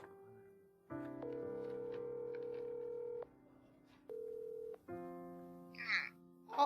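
A telephone call is dialed during a church youth group Sunday service: steady dial and keypad tones hum in sustained bursts, then brief voices are heard near the end.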